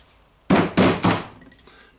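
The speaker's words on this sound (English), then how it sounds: "and hammering the outer ring" Three sharp metallic hammer blows strike a punch against the outer ring of a Hikoki (Hitachi Koki) DH28PCY hammer drill tool holder, evenly spaced and loud, with faint clinks trailing after.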